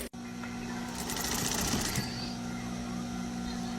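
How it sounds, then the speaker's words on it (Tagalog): Sewing machine stitching ruffles onto fabric, a steady rapid mechanical whir with a hum throughout, loud and close, with a brief burst of faster stitching midway. "Sinerik ko lang ng konti tapos pwede nang tahiin."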